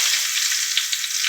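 Onions and green chillies fry in a pan with a loud, continuous bright sizzle and small crackling pops, close and steady, with no voices.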